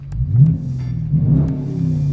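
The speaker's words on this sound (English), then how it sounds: "This rumble in the exhaust also sounds good." Deep, throaty exhaust rumble from a 2022 Dodge Challenger R/T with a 5.7 V8 and manual gearbox, steady and close, with a slight swell partway through, like idling with light revs.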